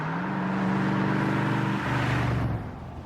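A loud V8-style car engine roars through big exhaust pipes, a deep rumbling drone that climbs and then drops as it revs, close and strong before fading slightly at the end.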